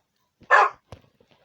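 A single sharp Minecraft dog bark rings out clearly, followed by a few faint soft clicks and taps in an otherwise quiet background.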